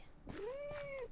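A kitten gives a single clear, drawn-out meow that rises and then falls, close and moderately loud over faint background noise.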